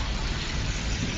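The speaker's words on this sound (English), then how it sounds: "It is raining cats and dogs here in Southern California." Heavy rain pouring down steadily on the 405 freeway in Southern California, a dense, loud, unbroken hiss of downpour with no voices.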